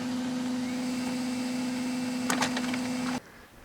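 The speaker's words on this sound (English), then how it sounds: "our printer will begin printing" An inkjet printer runs out wine labels with a steady mechanical hum and a brief burst of rattling near the end, then stops abruptly.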